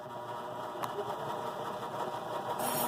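A Baby Lock Joy sewing machine stitches at an even, rapid mechanical pace, a steady close motor whir and needle rattle with no talk.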